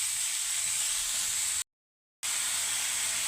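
Tomato pieces hitting a hot pan in a Kerala-style anchovy (nethili) thoran, giving a steady, close, loud hiss and sizzle that drops out briefly midway and then resumes with no talking.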